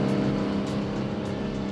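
Race cars at the Acura Grand Prix in Long Beach roar as a loud, continuous wall of engine noise, close and unbroken.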